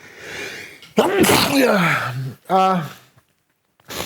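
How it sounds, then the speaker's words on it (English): A single loud, close sneeze with a sharp burst, followed by a short voiced exhale and a soft sound after a pause. "Now I'm going to sneeze."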